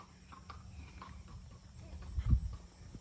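A barefoot, unshod 14-year-old quarter horse gelding walks, its hooves clip-clopping softly on the ground, faint and somewhat distant, with a slightly stronger thud near the end.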